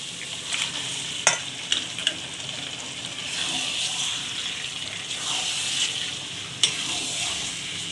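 Yogurt-marinated mutton going into frying masala in a pan, a steady sizzle with stirring and a few sharp knocks of a utensil against the pan, close by.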